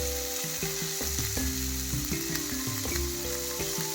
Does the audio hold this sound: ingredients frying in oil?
yes